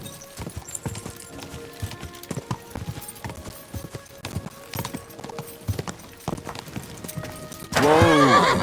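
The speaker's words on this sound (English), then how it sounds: "What a beautiful horse." Horse galloping with steady clip-clop hoofbeats in the video game Kingdom Come: Deliverance II, faint and continuous, ending in a loud, close neigh near the finish.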